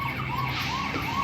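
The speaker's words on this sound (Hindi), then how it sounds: "इसको आप सिर्फ ऐप से ही खोल सकते हो, वरना ये ऐसे ही सायरन बजने लगेगा।" A loud, close electronic alarm siren from an app-locked locker at a budget hostel, wailing steadily with a rising and falling tone and no voices over it.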